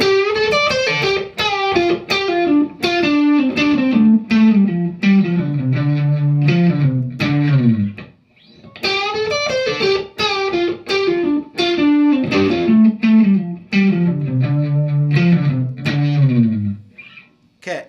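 Distorted electric guitar plays two runs of a guitar solo phrase, a minor pentatonic line with string bends, loud and up close with a short gap between them. No one speaks.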